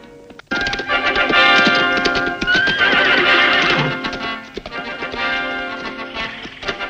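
Horse hooves clip-clop and a horse neighs loudly at an equestrian jumping ground, with stamping and whinnying running steadily after a brief quiet start.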